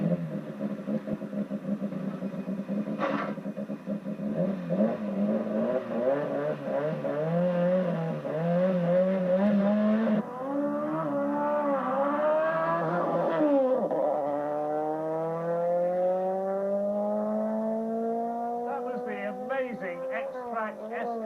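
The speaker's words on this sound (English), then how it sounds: "It's a twin-turbo car that's been built by John Welch specifically for rallycross." A twin-turbo Xtrak Escort rallycross car built by John Welch accelerates hard from a standstill, its engine note climbing through rising gear sweeps with a brief pause between shifts, loud and sustained throughout.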